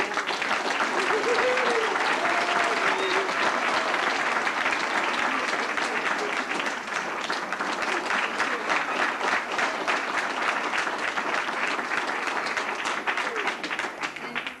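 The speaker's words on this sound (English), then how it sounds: "I'd like you all to give a great round of applause for Patty" Sustained applause from an audience, dense steady clapping filling the whole stretch at an even loudness, with faint voices mixed in.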